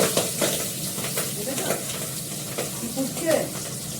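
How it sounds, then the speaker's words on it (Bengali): Large fish pieces frying in hot oil over a lowered gas flame, a close, steady sizzle broken by stirring and utensil scrapes, with a faint voice in the background. "তেলটা তেতে গেছে, গ্যাসটা কমিয়ে দিলাম। এবার মাছটা দেব।"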